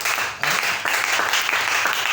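A church congregation applauds in a sustained, dense wave of clapping from many hands, loud and close.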